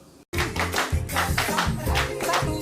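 A burst of rhythmic hand claps from a group, loud and close, with broadband smacks repeating at a steady pace over a low background hum.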